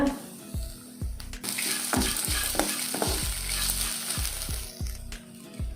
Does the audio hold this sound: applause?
no